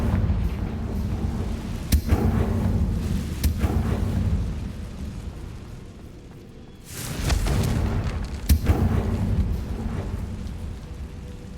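Fiery spell explosions in Hogwarts Legacy burst repeatedly with deep rumbling booms and sharp cracks. They swell, fade to a lull, then erupt again under a roaring, crackling wash.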